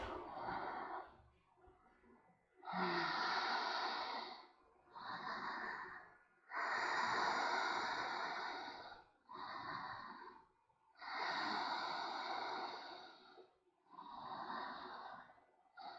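Slow, deep yoga breaths at a conscious pace, audible inhales and exhales, some with a nasal snort-like texture, close and fairly loud, alternating with short pauses and no speech.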